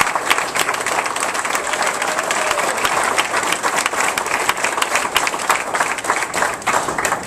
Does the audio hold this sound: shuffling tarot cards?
no